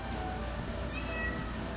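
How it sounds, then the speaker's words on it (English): A house cat cries with a drawn-out meow, faint and somewhat distant over a steady low room hum, with no talking. "that's my cat crying"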